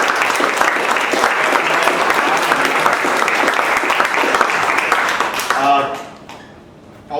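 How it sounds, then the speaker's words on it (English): An audience at a sales meetup claps for its panel, steady dense applause that holds for about five seconds and then fades out quickly. "I just want to give a round of applause to our wonderful panelists."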